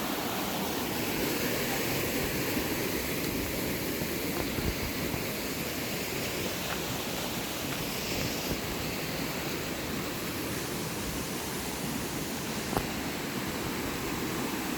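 A river stream flows beside the path in Kakopetria, a broad, steady rush of water with no pauses, close and constant for the whole stretch, with no voices.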